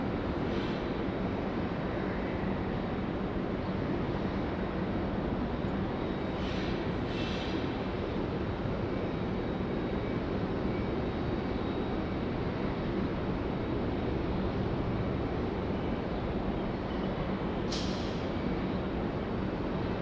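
Engines of a Delta airliner at Raleigh-Durham International spool up for takeoff as a steady, broad roar that holds loud and constant throughout, with no talking.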